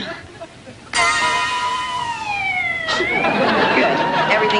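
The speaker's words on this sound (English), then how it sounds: "Here comes Dr. Stockman with the ambulance." An ambulance siren sounds in a scripted science show, a wailing tone that bursts in loud after a quiet start, glides down, then restarts and continues with background noise and bustle.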